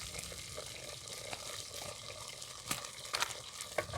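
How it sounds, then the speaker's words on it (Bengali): Diced potatoes seasoned with salt and turmeric fry quietly in a pan, a soft continuous sizzle broken by occasional light stirring clicks. "এই আলুটাকে ভালো করে লাল লাল করে ভেজে নেব।"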